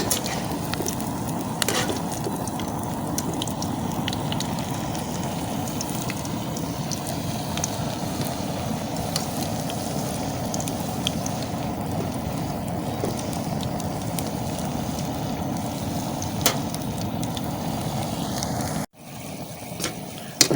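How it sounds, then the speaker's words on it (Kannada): Banana flower pakoda deep-frying village style in hot oil, giving a steady, unbroken sizzling hiss for about nineteen seconds before it cuts off abruptly near the end. "ನೋಡಿ ಇವಾಗ ಫ್ರೈ ಆಗ್ತಾ ಉಂಟು"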